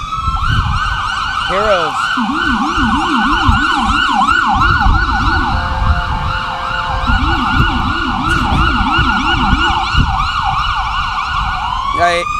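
Wailing emergency vehicle siren at an outdoor veterans' gathering in a park plaza in Oxnard, California, loud and continuous with rising and falling sweeps throughout, traffic rumbling underneath and a brief voice.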